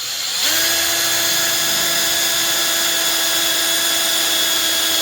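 A power drill with a 1/8 inch bit spins up and bores into a damaged car fender, a loud steady high whine that starts abruptly and holds at constant pitch, close up with no talking.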